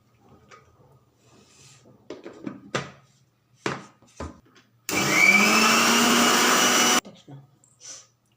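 A kitchen mixie churns cream with a little added water to separate butter. It gives one loud, steady whirring burst of about two seconds, with lid and jar clatter before and after.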